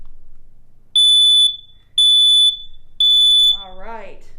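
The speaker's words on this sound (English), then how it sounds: "what type of sound does a smoke alarm make? That's right. Beep, beep, beep, nice and loud." Smoke alarm under test sounding three loud, piercing beeps about a second apart, each held for roughly half a second, followed by a voice speaking.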